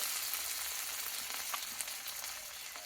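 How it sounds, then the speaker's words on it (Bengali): A paste of ginger, green chilli, coriander and cumin sizzles and fries in a pan, a steady close crackling hiss with small pops throughout and no talking. "আর দেবো একটা টমেটো এই মশলাটা আমি ভালোভাবে একটু কষিয়ে নেবো"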